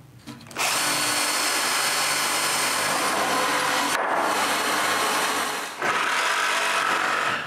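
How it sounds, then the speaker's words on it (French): An electric drill bores holes through a wooden band saw base at each corner of marked cutout lines, running loud and steady for about seven seconds with one brief easing of pressure near the end. "je perce un trou à chaque coin de mes marques"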